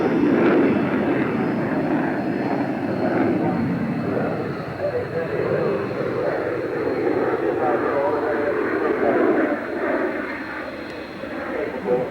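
A BAE Hawk jet trainer, the type flown by the Red Arrows, flies at the 1986 Farnborough air show. Its engine makes a steady, fairly distant roar that swells and eases over twelve seconds under a background hiss.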